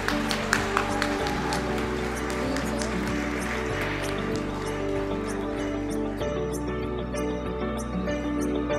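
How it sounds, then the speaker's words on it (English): Applause from an audience at a medical college convocation ceremony, clapping steadily over a sustained backing music tone, fairly close and continuous. "Everyone, please give them a huge round of applause"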